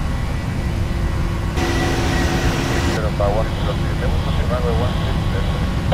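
Air Berlin Boeing 737-800 jet engines at takeoff thrust, a loud steady broadband roar filling the whole clip, with cockpit voices speaking over it.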